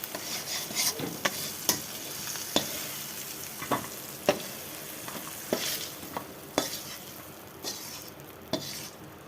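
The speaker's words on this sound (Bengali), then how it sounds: "চিংড়ি মাছটা ভাজা হয়ে গেছে, আমি তুলে নিচ্ছি" Steady frying sizzle of prawns in oil with repeated sharp clinks and scrapes of a spatula stirring in a pan, several irregular strikes over continuous crackling.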